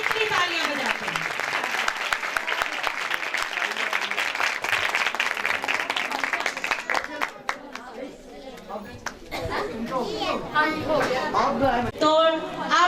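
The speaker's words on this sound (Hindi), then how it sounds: "देखते हैं कि आप उस लाड़ी के लिए कितनी तालियां बजाते हैं।" An audience at a church Christmas program applauds in a sustained wash of clapping that thins out partway through, with chatter and voices rising over the fading claps.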